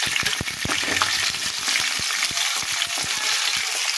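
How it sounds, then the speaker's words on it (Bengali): Garlic and onion crackle in hot oil with bay leaves, a close, steady sizzle broken by rapid, irregular spoon clicks and taps against the pan as the pieces are stirred; no voices. "এবার রসুন দিলাম আর দিলাম পেঁয়াজ।"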